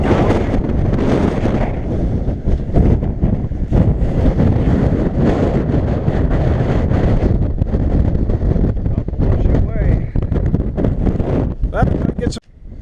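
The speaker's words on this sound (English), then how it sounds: "As you can see, the wind is really" Strong wind buffets the microphone at a gold claim near Coolgardie, California, a loud continuous rushing roar that covers the whole stretch with gusty fluctuations.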